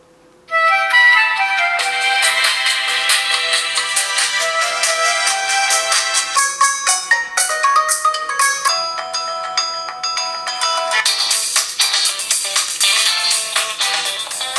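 A bright, melodic Huawei Ascend G610 smartphone ringtone plays loudly and steadily after a brief quiet start, its chiming notes repeating for the whole stretch with no talking.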